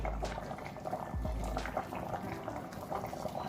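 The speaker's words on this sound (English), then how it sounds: "So now I'm gonna add my palm oil" Palm oil poured into a simmering pot of Benin-style bitterleaf black soup, giving a steady, close liquid gurgle and soft bubbling with no talking.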